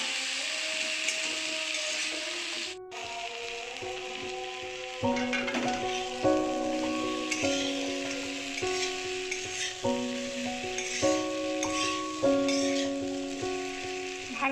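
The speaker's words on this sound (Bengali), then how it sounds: "এক চামচ লঙ্কা গুঁড়ো দিয়ে কষে নিতে হবে ভালো করে।" A fish head sautés with chili powder in a pan, giving a continuous close sizzle with repeated scraping stirs, set against a steady melodic tonal backdrop and no talking.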